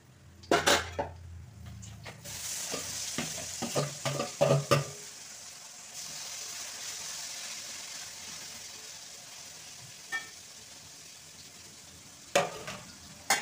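Elephant foot yam pieces coated in chicken 65 powder being lowered into hot oil to deep-fry, with sharp clanks of a metal utensil against the pan early on over a bubbling sizzle, then a quieter steady fry with occasional knocks.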